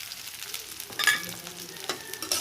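Potatoes fry with onions and chillies in a pan, making a soft, steady sizzle with a few louder scraping bursts as the mix is stirred.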